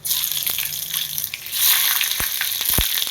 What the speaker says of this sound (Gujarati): આપણે વઘાર કરી નાખશું કઢી પત્તા નથી આ રાઈ આવી રાઈ જાજી નાખવાની હવે મરચાં નાખશું